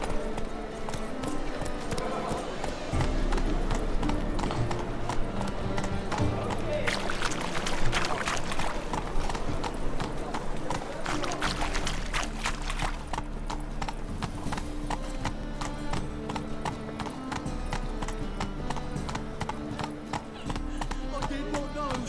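Hooves of Roach, the horse in The Witcher 3, clop rhythmically in a steady gallop, close and continuous, with brief bits of dialogue over the hoofbeats.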